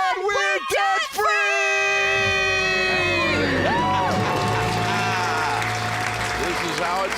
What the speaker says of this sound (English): Let's hear a debt-free scream